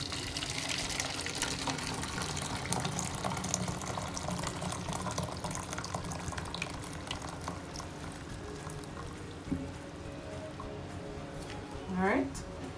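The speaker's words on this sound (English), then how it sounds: "I have some hot water, and I'm gonna pour in about 3 cups." Hot water poured over bouillon cubes for vegetable stock to cook rice, a steady moderate splashing fill running throughout, with a brief clatter near the end.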